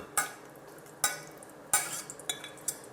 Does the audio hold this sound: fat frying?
yes